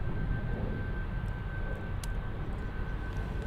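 A big airliner pushing back at Munich airport gives off a steady, distant low engine rumble and roar with a faint constant whine, heard on its own without talk.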